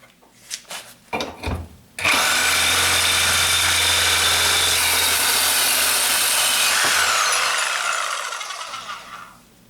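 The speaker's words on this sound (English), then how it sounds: "Now to start out, I'll use a very small piece of angle iron, and the blade that I'll be using is going to be a Diablo carbide tip metal cutting blade." A Milwaukee Super Sawzall 6523-21 reciprocating saw with a Diablo carbide-tipped metal blade cuts a small piece of angle iron: a few handling knocks, then a loud sustained buzzing cut at close range that eases off near the end.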